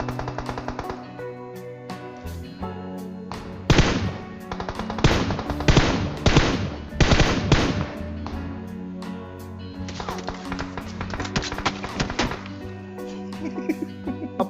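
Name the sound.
M416 rifle gunfire in video game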